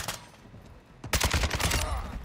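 Rapid video game gunfire bursts out after a quiet stretch, a loud close fusillade of repeated shots filling the second half.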